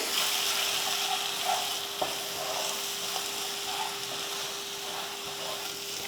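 Two eggs with salt are stirred and cooked in a pan over low heat for egg bhurji, giving a steady close sizzle with occasional soft scraping stirs and a small clink.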